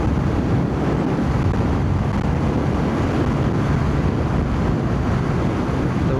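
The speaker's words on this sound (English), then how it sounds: "The wind is pushing me from that side to that side, and it's strong." Strong wind buffeting the microphone on a 2026 BMW R12 motorcycle ride, a loud continuous roaring rumble with steady intensity and no break, no voices heard.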